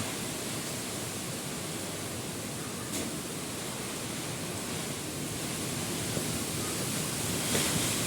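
Loud, constant roar of strong typhoon wind from Typhoon Kristine buffeting the microphone, a dense rushing noise with slight swells and no pauses.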